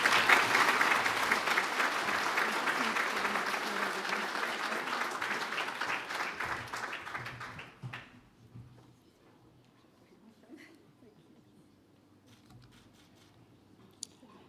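Audience at a 2021 national safety awards gala luncheon gives award winners a round of applause, a dense steady clapping that thins and stops around the eighth second, leaving a quiet room with a few faint stray sounds.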